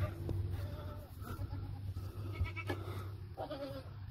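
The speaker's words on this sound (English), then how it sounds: "let's go feed the goats" Goats bleat a few times at a distance over a steady low rumble and rustling background noise.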